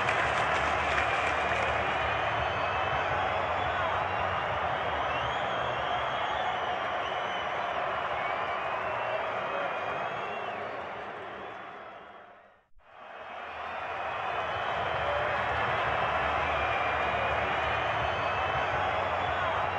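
Stadium crowd at a Peshawar Zalmi vs Karachi Kings PSL cricket match applauding after a six: a dense, steady roar of clapping and crowd noise that briefly cuts out and then resumes at full strength.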